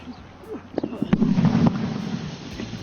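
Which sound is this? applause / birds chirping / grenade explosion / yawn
grenade explosion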